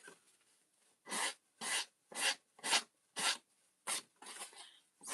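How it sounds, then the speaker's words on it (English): Paper edge rubbed with a sanding block while making an Easter treat explosion box, heard as about eight short, close rasping strokes in an uneven rhythm with brief pauses between them and no talking. "So we can fix that with our sanding block or a nail file"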